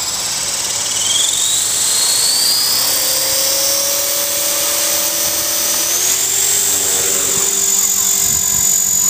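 An EXI450 RC helicopter with a 401B gyro flies nearby, its high motor and rotor whine loud and steady, with the pitch gliding upward and shifting as it moves.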